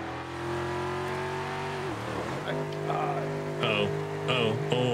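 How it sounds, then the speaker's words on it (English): A GT3 Mustang in a racing video game revs with a steady, tonal engine drone that dips and climbs again, its pitch shifting through gear changes and sharp rev spikes near the end. "Dude, this car sounds ridiculous."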